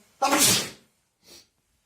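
A person sneezes once, loudly and close by, in a home kitchen during burger cooking, followed by a short faint sniff or breath about a second later.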